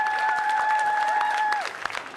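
A crowd gathered to thank flood volunteers claps and cheers in a steady burst of applause, with a held whistle-like tone over it that fades out near the end.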